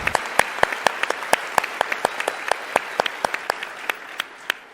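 Applause from an audience at a political speaking event, heard as crisp individual hand claps in an irregular scattering rather than a dense roar, fairly close and without talk.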